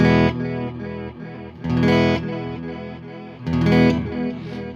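Electric guitar played through a Space Echo-style delay pedal with the modulation turned up, giving a few ringing, distorted chords with wide, wobbling echoes and reverb trailing after each strum.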